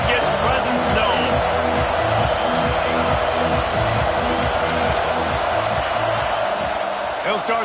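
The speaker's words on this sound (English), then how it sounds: "This crowd ready to make its presence known." A dense football stadium crowd roars continuously at a Nebraska vs Ohio State game, a loud, unbroken wash of cheering and noise with no pauses across the stretch.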